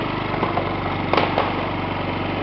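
A Yamaha C3 liquid-cooled scooter engine idles close by with a steady low putter, a couple of brief clicks or knocks standing out midway.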